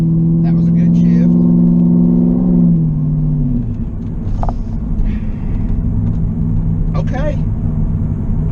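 A Chinavette car with a new RPM transmission and TCI torque converter drives in normal drive. Its loud, steady engine drone drops in pitch as it shifts gears, then runs on with a lower rumble while someone talks over it.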